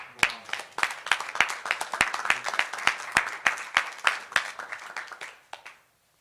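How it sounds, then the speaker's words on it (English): Sparse clapping from a small group at a press conference with former Northwestern players, individual hand claps spaced irregularly, fairly close, tapering off and stopping before the end. "let's give Lord a round of applause."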